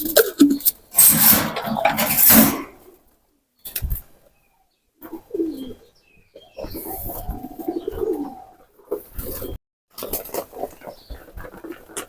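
Pigeons coo softly while feeding in the morning, low cooing and pecking patter in scattered bursts between brief quiet gaps, with a few louder rustling or fluttering sounds early on.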